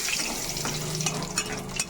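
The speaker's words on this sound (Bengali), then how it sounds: "এটাতে ফ্লেভারটা খুব ভালো আসে, গোটা গরম মশলা ভাজা হলে।" Whole garam masala fries in oil for a duck egg curry with cauliflower and potato, giving a continuous close sizzle with faint stirring clicks and no talking.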